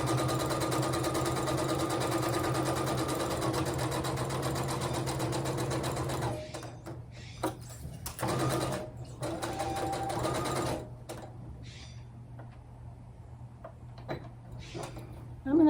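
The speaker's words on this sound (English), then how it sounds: "I'm going to do one little back stitch on each end." A sewing machine running steadily for several seconds, then starting and stopping in short bursts while doing a back stitch, close and fairly loud with a steady hum underneath.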